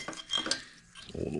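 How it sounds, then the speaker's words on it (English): Light metallic clinks and scraping as the flywheel and old wiring are pulled from a Vespa smallframe engine during a rebuild, a few close, quiet knocks followed by a brief rustle. "Let's go ahead and pull this flywheel out of there, along with the wiring"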